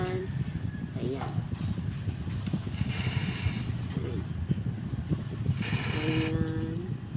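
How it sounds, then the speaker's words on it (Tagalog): Silver spray paint hisses from a can onto a shoe in short bursts, faint and close, with a low background rumble and voices between the bursts. "i-spray na natin siya using our spray paint"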